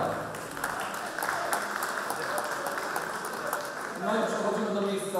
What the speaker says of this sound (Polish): Jeszcze raz brawa.